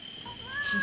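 A single short cat meow rises in pitch in the video game Don't Look Back, clear and fairly near against a quiet background.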